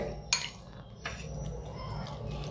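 Sour yogurt being stirred in a bowl with a spoon, giving a few close, quiet scrapes and light clinks of utensil against the dish over a soft background.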